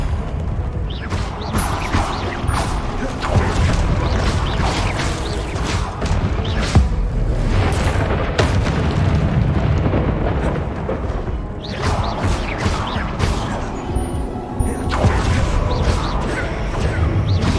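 Repeated blasting-curse explosions crash and boom through a Hogwarts Legacy wizard duel, a dense, loud run of impacts and rumbling bursts that barely lets up, with a few sharper cracks standing out.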